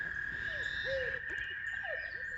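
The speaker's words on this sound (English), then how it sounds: "Also, you can hear a lot of the birds too." Evening chorus in a backyard: short chirping and whistled bird calls come and go over a steady, continuous trill of frogs, all moderately distant and layered together.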